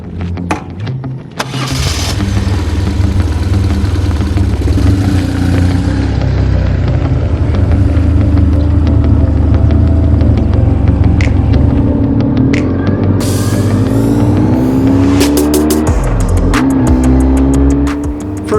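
A BMW R1150R motorcycle starts and rides off, its engine a loud, steady low rumble throughout, rising slightly as it gets under way, with wind buffeting close to the microphone.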